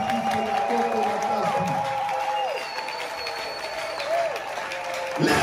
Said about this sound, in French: Est-ce que nous pouvons applaudir pour la gloire de Jésus-Christ?